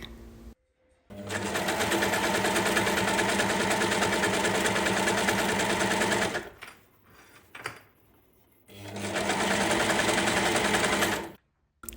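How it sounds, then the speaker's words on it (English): Sewing machine stitching the side seams of an oversized collar-and-bow spring top closed, running in two long steady bursts separated by a short pause, close and loud with no talking. "Finally, we can sew the sides closed and then finish them off however you like."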